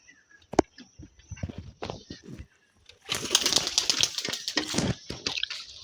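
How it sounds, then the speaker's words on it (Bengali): Pigeons, including young chicks and adults, rustle, coo and flap close by, with soft scattered sounds at first, then a louder burst of fluttering and wing activity. "এই দুটো কি পায়রা আছে, ম্যাটরাজি পায়রা।"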